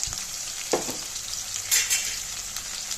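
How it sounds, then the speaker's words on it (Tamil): Food, likely onion, sizzling in hot oil for a Tamil fish curry, with a steady hiss, a couple of brief stirring scrapes and clinks in the pan, close and fairly loud, no talking. "நல்லா எண்ணெயிலே வதக்கி விடலாம்"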